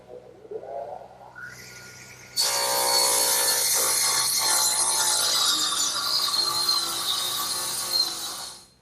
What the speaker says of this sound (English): I think I'll use my radial arm.